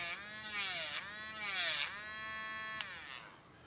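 An Ohuhu battery-operated electric eraser whirs in repeated bursts, its high buzzing pitch sweeping up and down with a noticeable wobble, close and fairly quiet.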